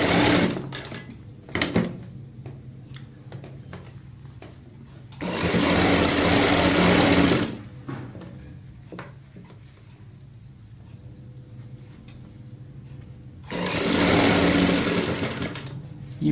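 Sewing machine stitching piping onto green fabric, running in two loud steady bursts of about two and three seconds with quieter handling noise between.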